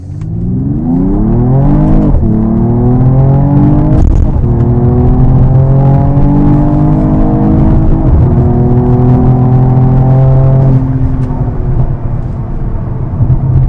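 A Mercedes-AMG GT43 in sport exhaust and drive mode accelerates hard: a loud, close, continuous engine roar climbing in pitch, with brief dips at gear shifts before rising again.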